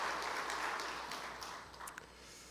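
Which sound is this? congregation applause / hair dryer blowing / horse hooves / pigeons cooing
congregation applause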